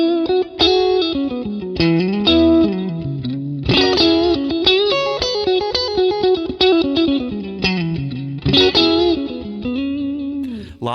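An electric guitar plays through a clean Fender Deluxe Reverb tube amp, close and loud, with strummed chords and single notes ringing in a steady rhythm and reverb tails, and no voice.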